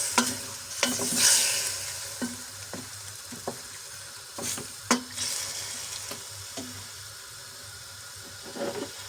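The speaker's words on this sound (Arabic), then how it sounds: "هون راح نقلبها شوي لبين ما يتغير لونها" Chicken and vegetables frying in a pan for a vegetable-and-chicken maqluba, stirred with scattered scrapes and knocks over a steady low sizzle, close and moderately loud with no talking.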